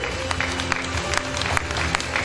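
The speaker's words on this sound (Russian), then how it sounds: "Под ваши аплодисменты" Audience applause at a local House of Culture award ceremony, a dense, steady crowd of clapping hands, fairly loud and continuous, with a faint voice mixed underneath.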